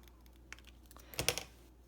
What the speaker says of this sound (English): I'm gonna go ahead and cut it down the middle.